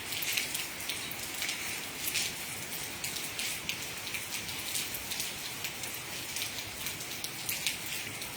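Steady rain falls outdoors, a dense, even hiss of countless drops pattering on surfaces, with brief swells in intensity and no voices.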